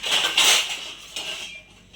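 Spoons and other cutlery clink and scrape against dishes as spicy noodles are eaten, a few close, bright rattling clatters in quick succession with no talking.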